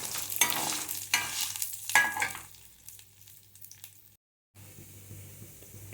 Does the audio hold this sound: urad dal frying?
yes